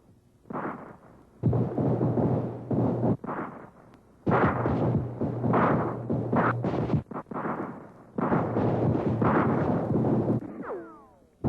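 Union cannon bombarding Mississippian sharpshooters at a Civil War reenactment: repeated heavy booming blasts in long rumbling bursts with brief gaps between them, loud and close.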